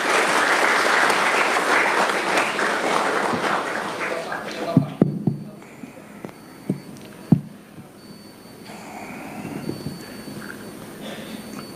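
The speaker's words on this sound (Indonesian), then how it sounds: "Tepuk tangan untuk Bapak Presiden" Audience applause for the President at a school opening in Tabanan, Bali: a full, sustained round of clapping that thins out, followed by a few loud isolated thumps and quieter murmur.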